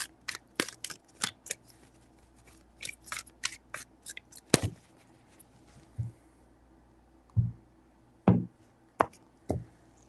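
Tarot cards being shuffled by hand, a series of quick crisp riffles and taps in irregular bursts, close and clear with pauses between.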